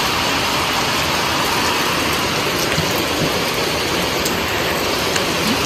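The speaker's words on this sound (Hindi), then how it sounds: "इस टाइम की बारिश।" Steady, loud rainfall hisses without a break at a hill station in Dhanaulti, a dense wash of drops pattering close by.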